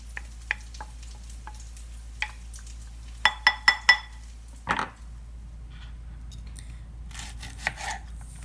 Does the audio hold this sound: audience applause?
no